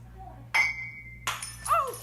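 A cup falls onto a counter with a bright ceramic clink, then strikes again and shatters in a burst of ringing, breaking fragments, close and sudden over a low steady hum.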